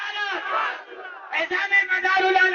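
A large crowd roars a chanted religious slogan in unison in reply to a leader's call, loud massed voices swelling, dipping briefly, then surging again.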